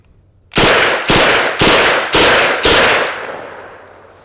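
A compact gun fires five rapid, evenly spaced loud shots in just over two seconds, each a sharp close blast with a short ringing tail, the last one fading out.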